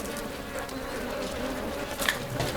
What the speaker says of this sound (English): These too are honeybees.